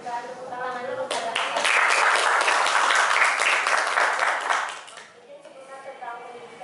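An audience at an Indonesian talk show bursts into full, loud applause for a few seconds between stretches of a presenter's speech, then it drops away abruptly.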